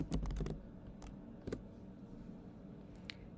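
A computer keyboard is struck in a quick flurry of keystrokes at the start, followed by a few isolated taps and a faint click near the end against a quiet room.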